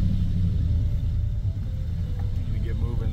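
A 1953 car with a flathead engine rumbles low and steady as it pulls away, its deep drone filling the whole stretch with slight swells of throttle.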